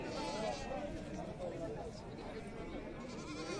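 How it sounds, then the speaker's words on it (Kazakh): Ewes with lambs bleat at a livestock market, faint and intermittent beneath steady crowd noise and people talking nearby. "Нейді қозылы қой бар екен."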